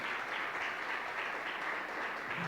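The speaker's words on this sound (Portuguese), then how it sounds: "Um aplauso ao Senhor pela vida dos meus irmãos." Church congregation giving a round of applause, steady dense clapping filling the whole stretch at a moderate, somewhat distant level with no talking.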